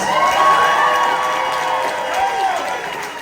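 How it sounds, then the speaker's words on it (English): A crowd cheers and applauds contestants at a Mr. Ross pageant event, loud shouts and whoops over clapping, sustained and then easing slightly toward the end. "Let's hear a huge round of applause for our contestants!"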